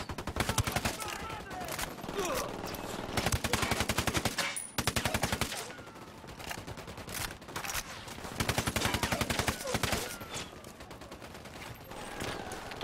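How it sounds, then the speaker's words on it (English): Sustained automatic gunfire from a firefight in the video game Ghost Recon Wildlands, rapid bursts rattling almost continuously with brief gaps, loud and dense throughout. "I'm opening fire on these shitheads!"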